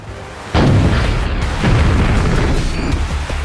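In the Spy Fox video game a misguided missile blows up with a loud, close boom that cuts in suddenly, followed by a rumbling blast and a second burst of explosive noise.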